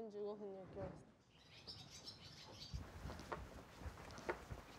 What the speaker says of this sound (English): 最近イソヒヨのオスよくいるもんね